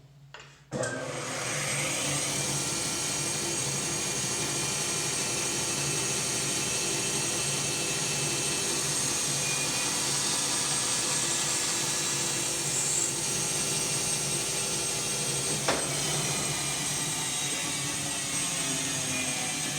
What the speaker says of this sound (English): let me start the bandsaw up